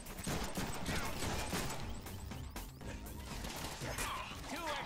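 Dense gunfire and crashing impacts from the Deadpool video game, a continuous loud barrage of shots with smashing sounds throughout, with faint speech mixed in.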